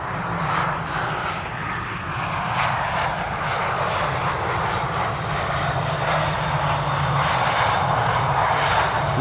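A large four-engine airliner, an A340, Boeing 747 or A380, rumbles steadily overhead at an airport on arrival, a loud continuous engine roar with a faint whine that holds for the whole stretch.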